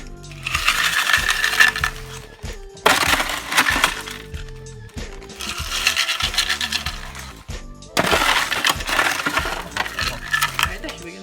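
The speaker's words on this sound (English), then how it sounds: "How much ice are we putting in there?" Ice rattles and clatters into a cup over soda in four separate bursts of crunchy, jingling pours, each lasting about two seconds with brief pauses between, close and fairly loud.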